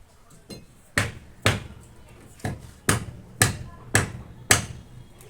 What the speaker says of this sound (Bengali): আগে দাও দিয়ে এটা কেটে কেটে ঢাকনা ইয়ে করার জন্য বানিয়ে নিই